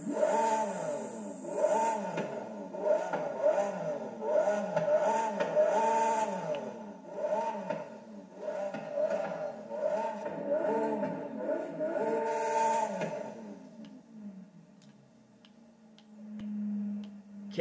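A 2021 Lamborghini Countach LPI 800-4 in the racing game Forza Horizon 5 revs repeatedly, its engine note climbing and falling in a series of loud pulls before fading to a quieter idle.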